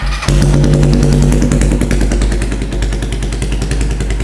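A Suzuki Thunder 250 chopper motorcycle with a twin-port exhaust fires up and settles into a loud, close, steady idle with a deep bassy throb and rhythmic pulsing, no talk over it.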